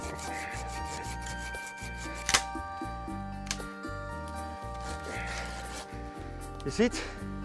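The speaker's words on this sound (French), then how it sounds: "Si l'on continue à scier, on voit que la branche, sous son propre poids, va entraîner cette partie." Hand saw cutting through a hazel tree branch outdoors, rhythmic rasping strokes with light cracks, heard under someone talking throughout.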